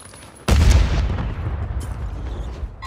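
A single loud, close blast of gunfire in the video game Rebirth hits suddenly, then rolls into a long, booming echoing decay with faint crackle.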